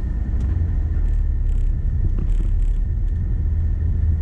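A car pulls away slowly on a frozen village road at minus thirty, its engine a low steady rumble that stays close and even throughout, with no voices.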